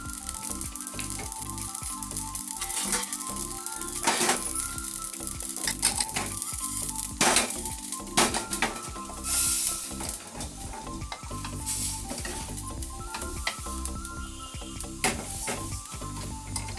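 Spices crackle and sizzle in hot oil for mango pickle, a dense continuous spitting and popping with occasional stirring clinks of a pan, heard up close with no talking.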